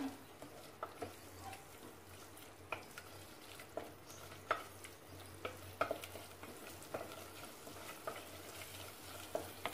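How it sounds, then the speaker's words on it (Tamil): Chicken curry masala sautés in a pan with a soft, steady sizzle, while a spoon stirs and scrapes at a regular rhythm, close and fairly quiet. "இப்போ நம்மளுக்கு மசால் பொடியெல்லாம் நல்லா அந்த பச்சை வாசனை ஓரளவுக்கு கொஞ்சம் வதக்கிக்கோங்க"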